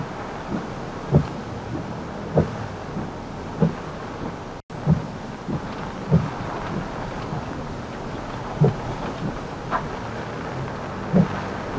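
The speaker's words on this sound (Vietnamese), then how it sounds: "Mưa vẫn rất to. Mưa thành từng cơn một." Heavy rain pours steadily over Ha Long after Typhoon Yagi, a dense continuous hiss with repeated soft thumps and gusts, no voices.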